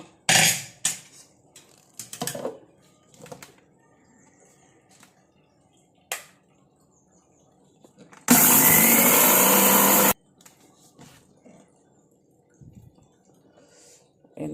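A loud mixer grinder whirs in a single burst of about two seconds, grinding cooled, dry roasted ingredients for a natural hair dye, surrounded by scattered clinks and light handling noises.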